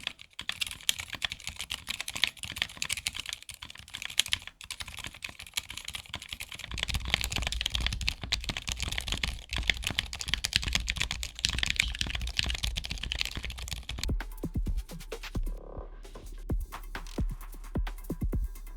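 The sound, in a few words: typing on silenced mechanical keyboard SAKA68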